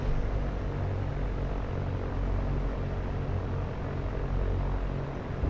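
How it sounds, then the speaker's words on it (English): Small plane taxiing out onto the runway at night, with a constant loud propeller and engine drone and broadband roar filling the cabin, no voices. "We're going to go taxi out onto the runway."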